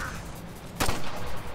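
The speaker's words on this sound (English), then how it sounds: "Why'd you run towards the gunfire?" Gunfire in the video game Ghost Recon: Future Soldier, a single sharp loud crack with a brief echoing tail amid dense background game noise.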